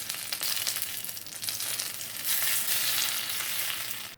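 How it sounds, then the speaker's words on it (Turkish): Hot melted butter poured over köfte on a plate with yogurt sets off a loud, steady sizzle. The crackle holds for about four seconds, swells near the middle and then cuts off, with no voices. "son olarak da tereyağımı üzerine döküyorum"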